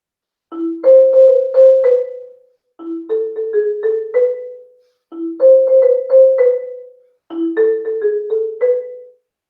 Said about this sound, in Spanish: Por ejemplo, yendo a la marimba, esto es un fragmento de Catamilla